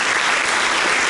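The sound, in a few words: congregation applause in church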